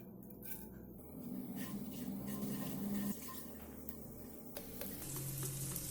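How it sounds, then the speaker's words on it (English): Crushed roasted spices fry in hot vegetable oil in a pan, giving a steady, close sizzle with a faint hum that holds for about six seconds. A few soft clicks sound over it, and nobody speaks. "Heat some vegetable oil in a pan. Add in the crushed roasted spices."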